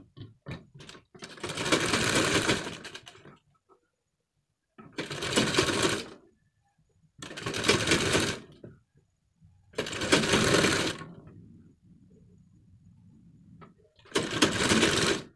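Sewing machine stitching a firm seam 1.25 inches in on a collar, with four or five loud mechanical bursts of one to two seconds broken by short quiet gaps and a faint low hum.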